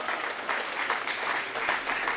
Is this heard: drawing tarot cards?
no